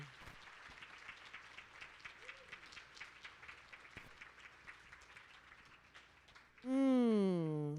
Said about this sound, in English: A round of applause for Aleyanna Grae.